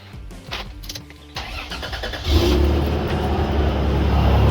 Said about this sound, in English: now the whole exhaust is on to the end, and we're going to start, see how loud it is